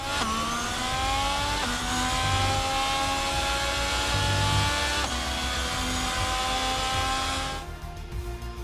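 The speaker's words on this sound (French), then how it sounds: "Ferrari regagne le parc fermé après une victoire" A Ferrari Formula 1 car in the F1 22 video game drives back to parc fermé after a race win, heard as a loud, continuous high-pitched engine whine that climbs in pitch, drops at gear changes, then fades.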